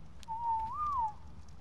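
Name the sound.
whistle command in Ark Aberration video game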